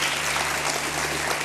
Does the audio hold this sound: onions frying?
no